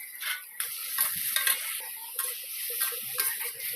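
Tomatoes and onion cooking in a pan with added salt, giving a bright sizzle punctuated by close, repeated stirring scrapes against the pan.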